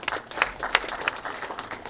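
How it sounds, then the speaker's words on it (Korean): A small seminar audience gives light, scattered applause, with individual claps standing out distinctly against a soft background of more clapping, faint and brief. "큰 박수로 마주해 주시기 바랍니다"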